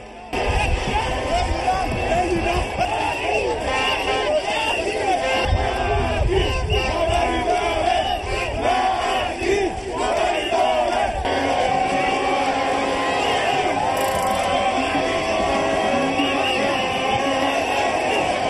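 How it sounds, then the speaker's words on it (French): A large, dense crowd of supporters and activists in the streets of Ndioum, Fouta, Senegal, cheers, shouts and chants to welcome President Macky Sall, a loud continuous roar with whoops and cries throughout. "Une foule diversifiée où se côtoient anonymes et militants, acquis à la cause du président Macky Sall."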